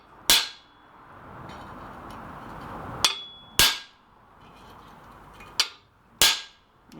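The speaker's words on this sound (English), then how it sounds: "we've got to chisel out this section, and to keep that from bouncing I've just clamped it down." Hammer blows drive a chisel into cold metal clamped down on an anvil stump band, five sharp ringing strikes spaced irregularly over a low background hiss.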